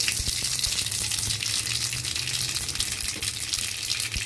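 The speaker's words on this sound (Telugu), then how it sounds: "కడాయిలో ఒక 2 స్పూన్లు ఆయిల్ వేసేసి జీలకర్ర ఆవాలు వేసుకోవాలి" Cumin and mustard seeds sizzling in about two spoons of hot oil in a kadai, a steady, close hissing crackle with faint pops throughout.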